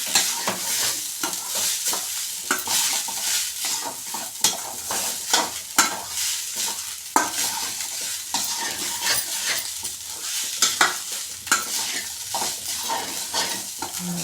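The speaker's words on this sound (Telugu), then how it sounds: "ఇప్పుడు కలుపుకున్నామండి బాగా కలుపుకోవాలి" Rice and salt stirred in a hot pan for coriander rice, a steady scraping with soft sizzling throughout and regular spoon strokes, close and alone with no voices.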